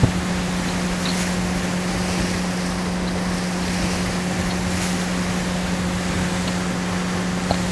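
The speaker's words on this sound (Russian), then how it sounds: "Кстати, лодка в натуре летит" A boat in the survival game DayZ speeds across open water, producing a loud, constant engine drone with a steady hum and rushing water and wind noise, unbroken for the whole stretch.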